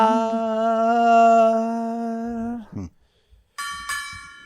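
A bell rings with a sustained, ringing tone that fades, then a second brighter, shorter bell strike follows after a brief pause, both fairly loud and close.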